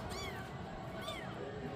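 Two short rising-falling meows from the owner's grown kittens, the young cats' calls carrying a light voice-like tone against a steady low background murmur.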